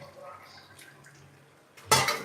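Goat meat drops into a cooking pot with a sudden wet splash and sizzle, loud and brief near the end after a quiet stretch of faint kitchen clatter.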